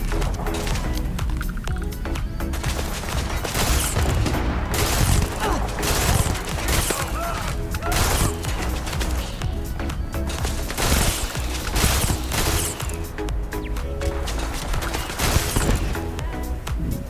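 The Poisonstorm weapon fires continuously at targets in Starfield, a dense, loud stream of rapid shots and impacts that barely lets up for seventeen seconds.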